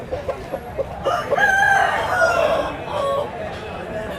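Country roosters at a village chicken market in Vizianagaram district crow in a long, rising and falling call, with soft clucks and market noise before and after, moderately near but not loud.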